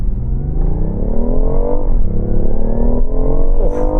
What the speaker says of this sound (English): Ryan, let's do 0 to 60